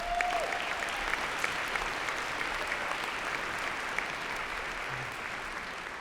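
Audience applause for event sponsors at a Sioux Falls startup talk, a steady wash of clapping from a moderate-sized crowd at some distance, continuous throughout with no voices above it.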